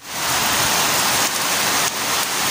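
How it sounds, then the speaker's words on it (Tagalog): Heavy rain pours steadily in a dense, loud hiss, unbroken from start to finish with no voices. "grabe nung ulan na"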